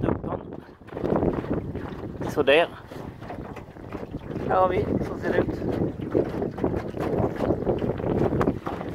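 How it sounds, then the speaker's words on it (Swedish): A small electric boat moves on open water with continuous wind buffeting and water noise, while someone talks throughout. "Nu så sitter vi i en båt, i en liten elbåt"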